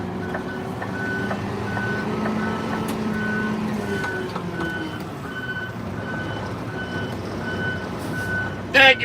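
Fire truck reversing, its backup alarm beeping in a steady evenly spaced rhythm over a rumbling idling engine, moderately close, with a brief sharp clunk at the very end.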